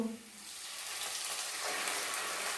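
Onions frying in a pan for an Indian vegetable curry with chatu (mushroom) cutlets, a steady close sizzle and crackle that grows slightly louder and continues alone without talk.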